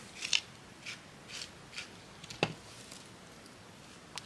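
Scissors snipping a doll's hair: a series of crisp, close snips spaced roughly half a second apart, with one sharper cut in the middle, alone and fairly quiet.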